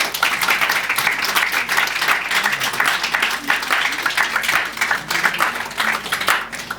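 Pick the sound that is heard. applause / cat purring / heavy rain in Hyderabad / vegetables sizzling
applause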